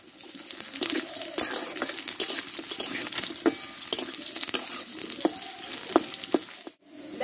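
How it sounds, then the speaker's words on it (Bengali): Potatoes sautéed in a pan, a steady sizzle with repeated scrapes and clinks of a spatula stirring them, close and fairly loud with no talk. "দেখো আলুটা একটু হালকা করে কষে নিয়েছি"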